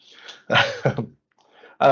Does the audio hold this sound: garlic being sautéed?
no